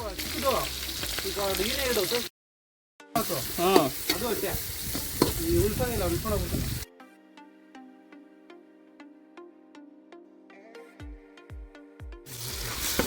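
Fish pieces shallow-frying tawa style on a hot griddle in a home kitchen sizzle loudly in steady bursts under overlapping chatter, then cut to a quieter stretch of faint tonal background sound before sizzling returns at the end.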